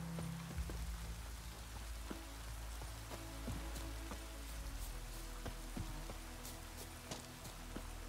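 Steady rain falling in The Witcher 3, a continuous soft hiss of drops with scattered sharper taps and a low rumble underneath, even and unbroken throughout.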